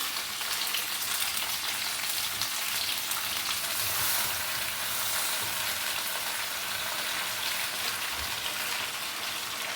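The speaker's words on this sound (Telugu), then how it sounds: "అది కొంచెం వేగాక ఇలాగ గోంగూర వేసుకుందాం" Gongura leaves fry in hot oil in a pan with a dense, continuous, close sizzling hiss that holds steady throughout, like light rain.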